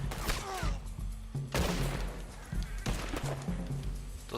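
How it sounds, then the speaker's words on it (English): Gunfire in Red Dead Redemption 2 Online, several close gunshot bursts cracking at intervals over game sound, fairly quiet overall. "The shooting seems a little bit weird."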